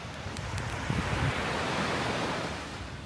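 Surf rolls onto a white-sand beach in Lombok, Indonesia, a continuous wash of breaking waves that swells and recedes, with wind buffeting the microphone and no voices.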